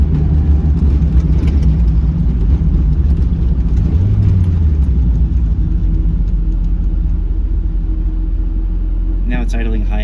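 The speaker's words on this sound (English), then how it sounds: "Now it's idling high again." A Mazda Miata engine idles high with a steady low rumble and faint mechanical hum from inside the car, continuous and close, with a brief rattle near the end and no talking.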